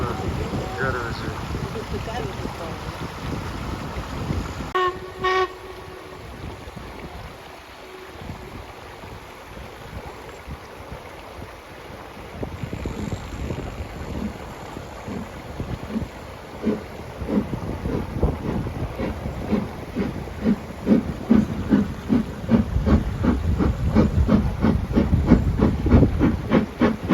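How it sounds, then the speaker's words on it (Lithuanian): A steam locomotive passes on a Hebrides line in Scotland before a large crowd, a rising hiss and chuffing rhythm building toward the end, with wind on the microphone and a brief whistle-like tone early on. "Šimtai kamerų čia dabar yra įjungta, tam, kad užfiksuotų šitą garvežį."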